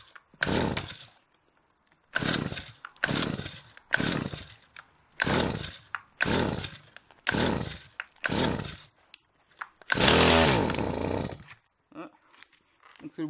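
Small engine being pull-started again and again without catching: about nine sharp bursts of rattling sputter spaced a second or so apart, with one longer, louder cough near the end, close and loud.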